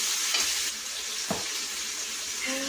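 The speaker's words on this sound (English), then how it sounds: "I'm just draining the egg noodles" Water runs from a kitchen tap into a sink while cooked egg noodles are drained, a steady moderate hiss of pouring with faint splashes and a small clink partway through.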